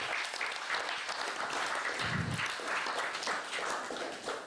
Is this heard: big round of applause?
yes